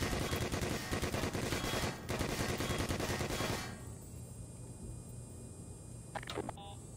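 Rapid automatic gunfire in Black Mesa rattles loudly in dense bursts for about three and a half seconds, then cuts off, leaving quieter ambient game noise and a few faint clicks.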